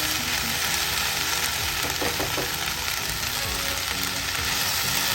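Okra and onion fry in a pan over medium heat with a loud, steady sizzle, and a few brief stirring scrapes come through near the middle.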